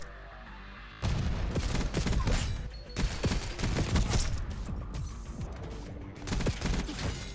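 Dense bursts of video game gunfire in Black Ops 6 from a Stryder .22, loud and close, with rapid overlapping shots, clattering impacts and a brief lull before more firing.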